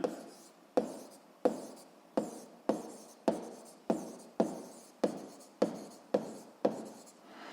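Chalk or pen strokes writing a physics formula on a board, eleven short sharp taps and scratches in a steady rhythm, close and clear with no talking.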